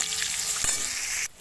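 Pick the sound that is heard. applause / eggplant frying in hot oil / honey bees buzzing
eggplant frying in hot oil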